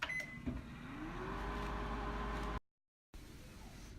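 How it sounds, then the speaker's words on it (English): Steady electrical hum of a microwave oven running, loud and constant, briefly cutting out to silence before resuming. "Microwave is set for 3 minutes,"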